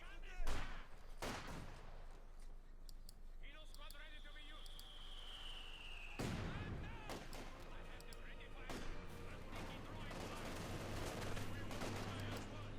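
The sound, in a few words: machine gun fire in Company of Heroes 2 video game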